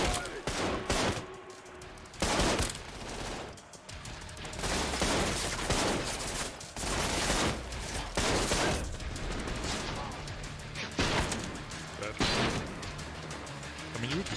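Automatic gunfire in the video game Trepang 2 comes in rapid bursts of shots, with brief gaps between them, under someone talking at moderate level.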